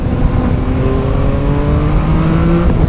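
A 2021 Yamaha MT-09 motorcycle engine revs up close and loud, pitch climbing steadily as it accelerates under a constant rumbling roar.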